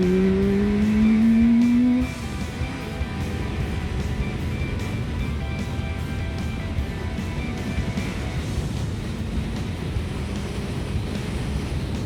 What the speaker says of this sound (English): Okay, now let's see how fast you can accelerate.